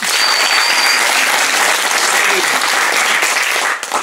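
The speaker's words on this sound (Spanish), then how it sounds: "Aplauso para él." Steady, loud applause from a circus crowd rolls on without a break and eases slightly at the very end; a voice briefly cuts through the clapping.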